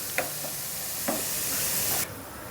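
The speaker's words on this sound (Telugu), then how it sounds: "చూడండి, పుట్నాల పప్పు కూడా ఈ విధంగా వేయించుకోవాలి" Roasted gram dal (putnala pappu) frying in hot oil, a steady loud sizzle and hiss with a couple of light scraping stirs, the sizzle cutting off abruptly near the end.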